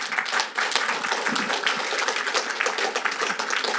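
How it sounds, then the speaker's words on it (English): Audience applause at a St. Clair Shores Waterfront Environmental Committee meeting, welcoming speaker Don Brown: a steady, dense wash of many hands clapping at moderate volume, filling the room evenly without a break and without talk. "So please give a round of applause for Don Brown."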